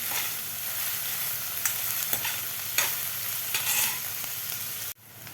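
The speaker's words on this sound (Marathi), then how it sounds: "कांदा आपल्याला दोन मिनिट व्यवस्थित परतून घ्यायचा आहे" Onion being sautéed in a pan for a restaurant-style mushroom masala, a close, steady sizzle with scraping stirring strokes that ends abruptly, no talk.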